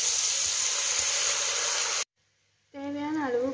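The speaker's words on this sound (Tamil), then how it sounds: "பால் ஆட் பண்ணிக்கலாம்." Milk poured into a hot pan of butter-fried garlic, chillies and curry leaves sizzles and hisses loudly and steadily for about two seconds, then cuts to silence before a voice speaks.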